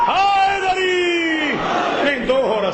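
A crowd at a religious majlis chants slogans in unison, with loud, sustained voices that swell and fall in pitch, close and continuous.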